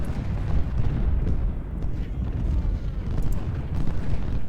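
Ironclad warships firing their guns in Ultimate General: Civil War: low rumbling booms rolling under a constant heavy battle roar, distant and muffled, with a voice talking faintly over it.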